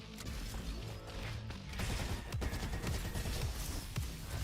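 Sustained AK rifle fire in the shooter game Roboquest, a dense loud burst of crashing shots with sharp transients through the middle, over busy game effects.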